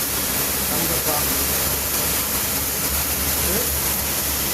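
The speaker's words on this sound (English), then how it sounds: "Now trigger. You see the water flow rate coming up. The pressure comes up." An electric high pressure washer sprays water steadily when triggered, a loud continuous hiss and rush that fills the whole stretch, with a voice faintly present underneath.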